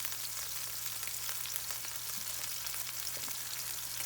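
Balsamic vinegar added to a hot pan sizzles with a steady, soft frying hiss and faint crackles, continuous and fairly quiet with no talking.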